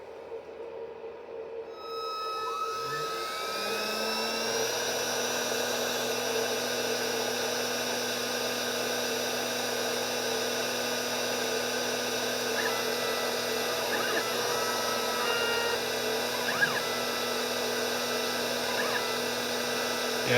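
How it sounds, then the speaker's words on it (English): A CNC milling spindle winds up to a high, steady whine and keeps running while it machines a wheel for a 1/8-scale Jaguar XKE model, loud and close with faint cutting ticks and no talking. "So I'll get the spindle turned on and then I'll hit start."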